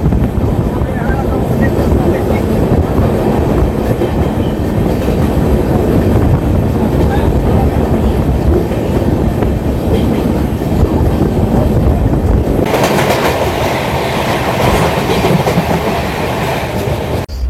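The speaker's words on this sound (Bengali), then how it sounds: "স্কিপ করছে আমাদের ট্রেন রানাঘাট জংশন" The Sairang–Kolkata Express runs at speed past Ranaghat Junction, giving a loud, steady roar and rattle of wheels on rails with continuous clatter from inside the coach that stays the same throughout.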